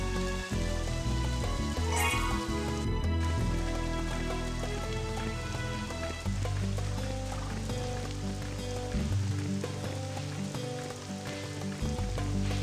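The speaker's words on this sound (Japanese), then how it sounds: "そら雨降ってるからね、さすがに事務所か先生はね。" Steady hiss of rain falling on a race day in the horse racing video game Jockey's Road, a continuous wash running under busy game music throughout.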